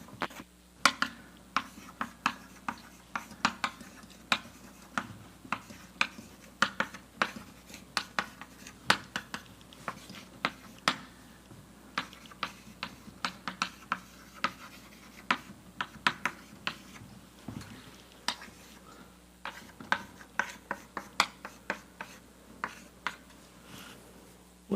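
Chalk or marker taps and scratches on a lecture board as a mathematics lecturer writes, a long run of sharp irregular ticks in a quiet room with occasional faint speech.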